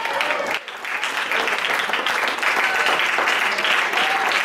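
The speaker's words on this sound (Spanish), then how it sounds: "¿Cuántos le dan palmas a Dios en esta noche?" Congregation clapping hands during an evening church service, dense loud applause from many people, continuous and close throughout.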